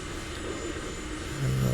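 A light aircraft engine roars at full throttle for takeoff, a steady loud drone that swells slightly at the end.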